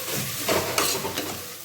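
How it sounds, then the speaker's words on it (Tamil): Mint and coriander leaves are stirred into an onion-tomato paste for mushroom biryani, a close sizzle with a few soft scraping strokes of the spoon and no voices. "புதினா அப்புறம் மல்லி இலை போட்டு ஒரு கிண்டு"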